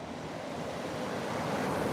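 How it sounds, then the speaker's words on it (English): Mild ocean waves at low tide on a beach before sunrise, a steady broadband wash of surf with some wind, gradually swelling slightly louder. "We've got low tide. We've got mild waves."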